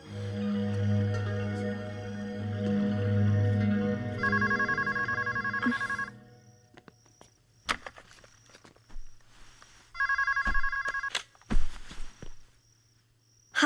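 A telephone rings indoors in a Hindi comedy film: two bursts of electronic ringing separated by a quiet gap, with soft footsteps and faint clicks between them and low background hum early on.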